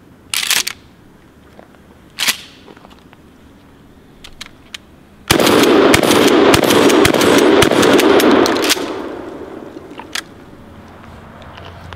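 A Mossberg 500 shotgun fires a rapid string of loud shots, preceded by a few sharp metallic clicks and clacks of the action; the roughly three-second burst of blasts stays dense and close before tapering off.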